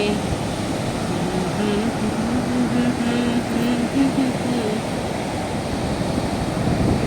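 Continuous roar of surf breaking close by on a beach, a broad steady wash with faint voices murmuring underneath.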